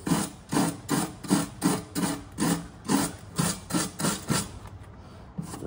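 Wire brush scrubbed back and forth over a welded steel transducer mount to clear black soot, about a dozen steady rhythmic rasping strokes, close and fairly loud, with no voices.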